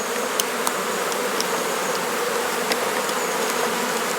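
Honeybees buzz at their hives during a chestnut honey harvest, a dense and steady drone close by with scattered louder passes of single bees and no talking.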